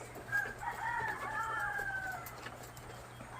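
Ready-to-lay hens on a poultry farm cluck and call steadily, with a few sharper squawks rising over a constant low barn hum.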